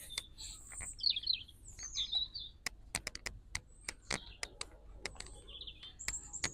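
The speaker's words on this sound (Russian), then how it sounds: "Красиво поют птички." Nightingales singing in Richmond Park, London: bright, rapid whistled phrases and chirps at close to middle distance, punctuated by sharp clicking notes, over a quiet outdoor background.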